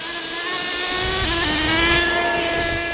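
A Kyosho USA-1 nitro RC truck's small engine runs in a loud, steady, buzzing whine while driving, its pitch dipping briefly as it shifts gears and then climbing again, close and continuous.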